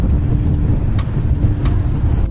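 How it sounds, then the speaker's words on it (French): Motorway traffic near Lyon, France, gives a loud, continuous roar of passing vehicles including trucks, heard fairly close with brief swells as vehicles go by. "Ah voilà l'autoroute"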